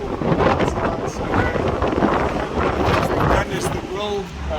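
Strong, steady wind roars and buffets the microphone outdoors around a Mercedes-Benz W115 230.4 in Richmond Hill, a loud continuous rush with gusty swells and a voice mixed in.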